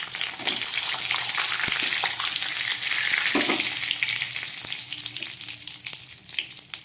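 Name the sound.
cumin seeds and bay leaves sizzling in hot oil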